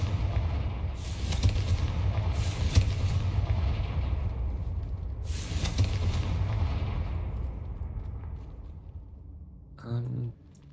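A Confringo fire spell cast in Hogwarts Legacy sets off several loud booming blasts over a steady low rumble, with a short tonal chime near the end.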